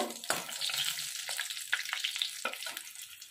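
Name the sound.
cardamom, cinnamon, cloves and dried chilies frying in a pan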